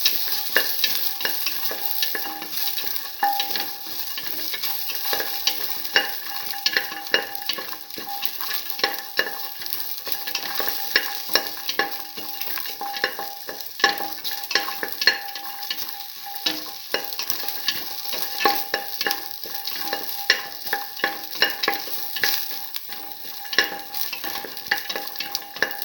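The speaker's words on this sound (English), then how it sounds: "Toss the garlic thoroughly with the rest of the mixture." Garlic being tossed and stirred through a mung bean and tamarind pasta mixture in a pan, giving a steady close scraping and sizzling texture with frequent small clicks and no talk throughout.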